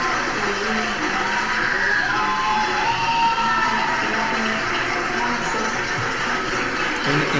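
Audience in the Mexican Senate cheering and clapping for a child, a dense continuous roar of shouts, whoops and applause that stays loud and steady throughout.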